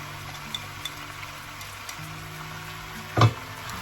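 Onions sizzle softly in a pan while cooking for chow gai pin, a quiet steady fry with a low hum beneath, a few light ticks, and one brief louder clatter near the end.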